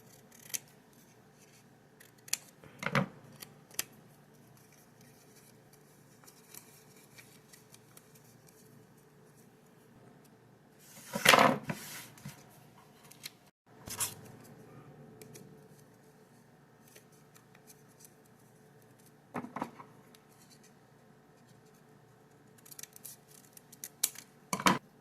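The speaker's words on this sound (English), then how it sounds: "So now I can fold this over and cut the other side to match." Scissors cutting folded printer paper for a paper star or snowflake ornament, heard as a few close, sparse snips and paper rustles scattered across a quiet room, no talk.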